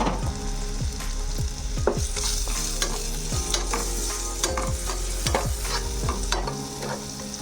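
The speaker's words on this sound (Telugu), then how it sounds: "ఇప్పుడు వీటన్నిటిని కలిపి మనం కాస్త ఫ్రై చేసుకోవాలి." White sauce pasta ingredients being stirred and fried in a pan, with steady close sizzling and repeated scraping strokes of a spoon throughout, and no talking.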